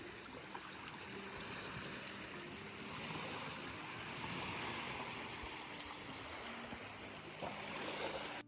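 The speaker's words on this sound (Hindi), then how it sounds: "ये पानी की आवाज, ठंडी ठंडी हवा" Water of a Scottish loch near Fort William lapping and washing in a continuous, broad rush, with wind mixed in, steady and moderately distant for over eight seconds, with no talk.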